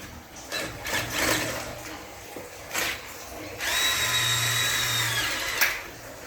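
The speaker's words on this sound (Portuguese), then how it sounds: "Aperta com a parafusadeira" A cordless screwdriver tightens bolts on a steel door, its motor whirring in a short burst and then a longer steady high-pitched spin, close and fairly loud, with some clatter and handling noise around it.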